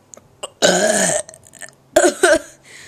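Loud, drawn-out burps ripple through a burp contest: a long croaking belch, a pause with small noises, then a second shorter burp breaking into two bursts, all close-up with no talking.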